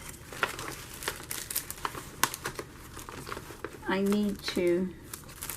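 Paper rustling and crinkling inside an envelope holding gifted paper items, soft irregular crackles under nearby talk in a quiet room.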